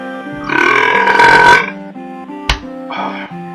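A loud, drawn-out human belch lasting about a second, rough and tonal, followed by a short sharp knock and a briefer second burp-like grunt, with no talk.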